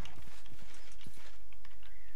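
Horse hooves in the Minecraft video game clop in a quick irregular rhythm, close and fairly loud, over a constant background hum without speech.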